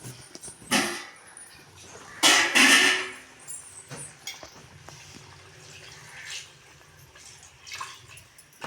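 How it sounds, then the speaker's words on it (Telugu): Water is poured into a pot of mutton curry in a few short, splashy gushes, the longest lasting under a second, over a quiet kitchen background. "ఇప్పుడైతే వాటర్ అయితే పోసుకుంటాను."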